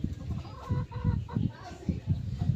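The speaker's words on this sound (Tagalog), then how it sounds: "Yan, magandang manok din yan mga katrabaders." A fine long-tailed fighting rooster gives soft, low clucks in a quick irregular series, heard up close.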